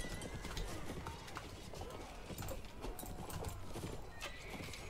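Horses gallop in the Mount and Blade video game with a steady rumble of hoofbeats under a dense, noisy battle mix. The sound is faint and continuous throughout.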